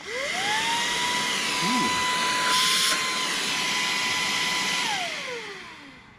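A Moosoo cordless brushless lithium-battery cyclone handheld vacuum cleaner switches on with a rising whine, runs at a steady loud high-pitched hum, then winds down when switched off. A voice briefly exclaims midway.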